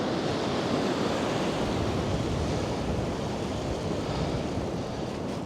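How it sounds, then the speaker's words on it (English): Large ocean surf surging up a beach on an incoming tide at dusk, a continuous heavy roar of breaking water and wash with some wind, loud and steady throughout. "And again, just one big surge of water."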